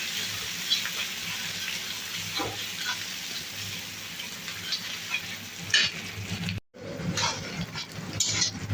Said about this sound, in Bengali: পেঁয়াজটা একটু লাল লাল হওয়া পর্যন্ত ভাজবো